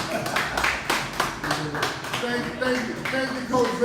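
A few people give a round of hand clapping for a studio guest co-host, sharp uneven claps continuing for several seconds, close and fairly loud.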